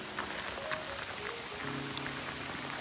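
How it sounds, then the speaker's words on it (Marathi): Rain falls steadily outdoors during a trek from Panhala to Pawankhind, making an even wash of patter with scattered louder drops close by. "पाऊस पडतो डायरेक्ट."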